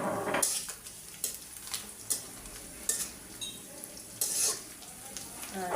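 Whole spices, dried chilies, cardamom and cinnamon frying in hot oil, with a steady crackling sizzle broken by repeated scrapes and clinks of a stirring spoon against the pan.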